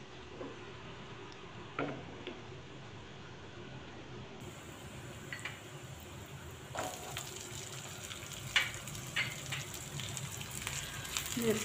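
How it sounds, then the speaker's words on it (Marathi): Already-roasted peanuts fry in a pan for a garlic and green chilli thecha, giving a steady soft sizzle with scattered light ticks and crackles that grow a little busier toward the end, with no talking. "हे आधीच भाजलेले शेंगदाणे आहेत, त्यामुळे आपण 1 ते 2 मिनिटं ह्याला फ्राय करून घेतलं तरी चालेल।"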